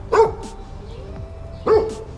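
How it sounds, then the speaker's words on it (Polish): Dogs barking nearby outdoors, behind a man standing on a street: two separate bursts of barks about a second and a half apart, fairly close and clear, with a steady low background hum. "Są tutaj gdzieś psy, tam są gdzieś za mną i szczekają, ale Rafałek nie jest z policji"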